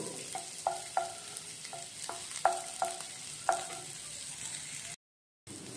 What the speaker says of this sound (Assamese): নহৰুকণ সেই তেলতে ভাজি ল'ব